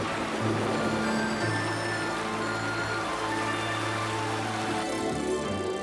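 Steady rain falling outdoors, a dense even hiss that fills the whole stretch, with a low tonal hum running underneath and no voices.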